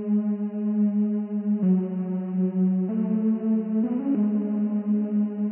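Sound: second synth layer, left and right synths

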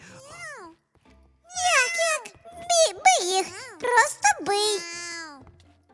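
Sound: cat meowing in the video game Minecraft

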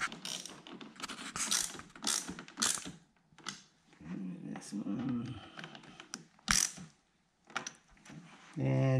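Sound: ratchet tightening Corvette C7 spoiler bolts

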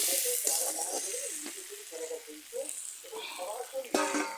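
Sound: pouring water into frying broiler chicken curry

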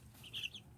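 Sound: chickens clucking

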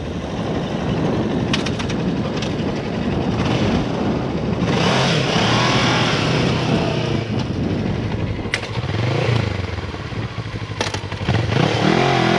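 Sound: motorcycle pulling away from rollers in a lean

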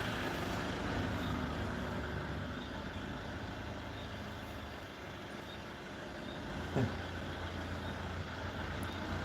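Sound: vehicle (bus) arriving

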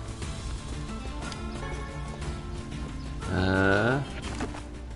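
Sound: goat bleating in the video game Nier Replicant

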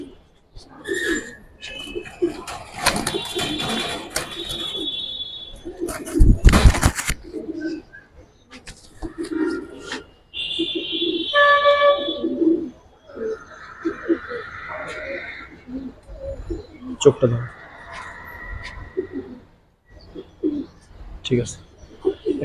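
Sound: Giribaz pigeons cooing and flapping in the loft

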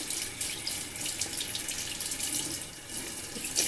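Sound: tap water running into sink

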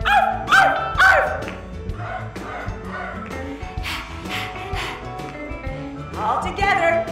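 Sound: people imitating dog barks

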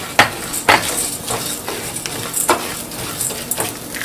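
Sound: urad dal and chana dal sautéing in a pan

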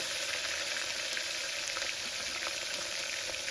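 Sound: food frying in a pan while cooking chicken curry

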